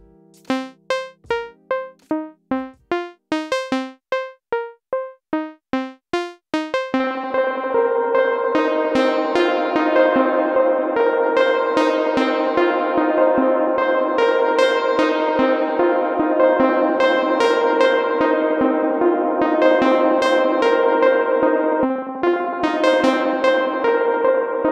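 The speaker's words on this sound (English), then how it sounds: "on the last one, we have an ambient reverb." Synthesizer through a UAFX Golden Reverberator pedal on its Spring 65 ambient reverb setting: a run of short plucked notes with long echoing tails, then dense sustained chords swelling into a lush, washing reverb.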